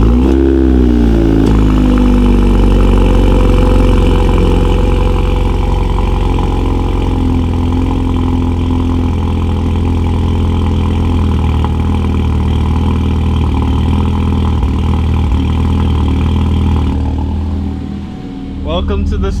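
A Hyundai Veloster N fitted with an SXTH Element downpipe starts up and idles with a loud, steady exhaust drone that holds throughout and dips briefly near the end. Voices talk over it.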